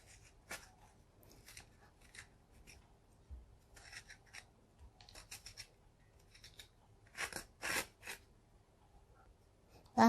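A spoon scrapes the pith and seeds out of cut bitter melon, giving intermittent close, dry scratching strokes in short bursts, with a couple of louder rasps near the end and no talking.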